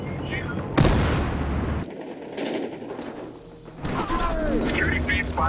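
Bursts of automatic gunfire from an enemy on a rooftop in Battlefield Hardline beta, Dustbowl conquest, cracking loudly in rapid volleys with gaps between, while players talk over the action.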